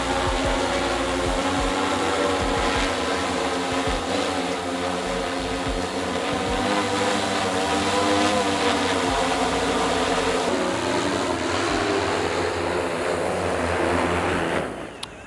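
An ABZ Innovation L10 V2 agricultural drone, carrying a heavier load, lifts off and flies with a loud, steady rotor drone and whine that holds evenly, then fades out abruptly at the end.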